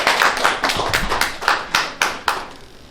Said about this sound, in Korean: 큰 박수로 맞이해 주시면 고맙겠습니다.